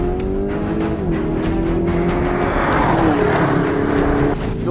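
A 2019 Lamborghini Urus with a twin-turbo engine, revving loud and close as the engine note climbs and shifts through steady tonal steps, sustained throughout with no talking.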